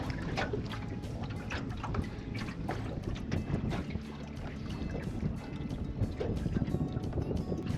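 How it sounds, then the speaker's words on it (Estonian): A motorboat running under engine power across a lake on a fishing trip, a steady, loud, continuous engine drone mixed with rushing water and wind noise, with no voices. "siis sõidame mootoriga lihtsalt järve peal"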